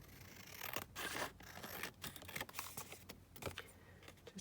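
Scissors snip through a paper card for a Halloween gothic folio, close and quiet, with a series of short cutting and rustling sounds and no talking.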